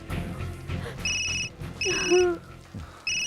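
A telephone rings in repeated electronic trilling bursts, nearby, with some background noise and a brief voice-like tone between rings.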